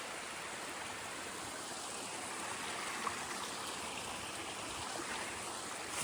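Small waterfall beside a hiking trail, a steady, even rush of falling water, fairly faint and continuous, with no voices.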